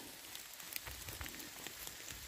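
Steady rain patters on surfaces outdoors during a wild mushroom foraging trip in Thailand, a dense, even hiss of droplets with a few sharper taps, moderately faint and continuous, with no talking.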